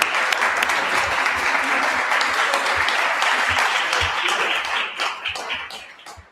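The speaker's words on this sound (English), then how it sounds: "Big round of applause for Ellie." Conference audience gives a steady, loud round of applause lasting several seconds, many hands clapping together, thinning out and fading toward the end.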